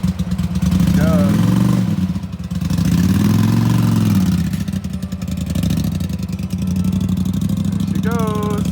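A 1982 Honda GL500 being built into a cafe racer, its engine running loud and steady with a mid-pitched throb that swells as the bike pulls away; a voice speaks briefly over the engine noise.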